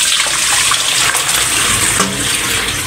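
Running water rinses salt from soaked kimchi cabbage in a steady, close, full rush that holds without pause, with no one talking over it.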